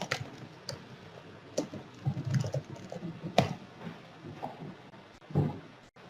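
Keys clatter on a computer keyboard as a login is typed again, irregular bursts of close, light taps with short pauses between them.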